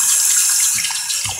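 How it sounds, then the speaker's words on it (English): Tap water runs steadily from a faucet while a toy cow is being washed with shampoo, a continuous close hiss of flowing water with a few low splashes near the end. "Then when the water comes, like right now it's coming out."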